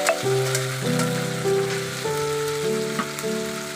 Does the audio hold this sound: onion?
yes